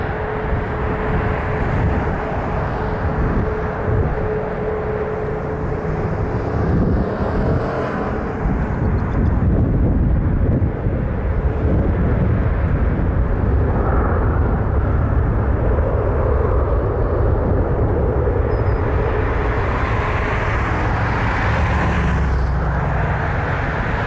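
A Boeing 737 Max 8 airliner takes off at Toronto Pearson airport, its engines a loud, steady roar that holds for the whole stretch, with a low rumble and broad jet noise and no talk.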